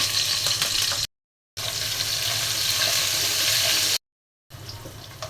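Chopped onion fries in a pan with a steady, loud, close sizzle that is cut twice by brief silent gaps.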